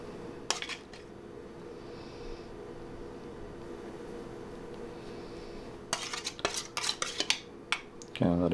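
A spoon clinks and scrapes against a pan while sauce is spooned over a lobster tail, with sparse metallic taps and a low kitchen hum in between.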